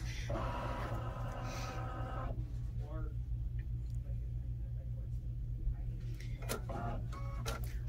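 An embroidery machine shifts its hoop while its camera scans for a placement sticker, giving a low steady motor hum with a few short whirring movements, and a person talks quietly over it.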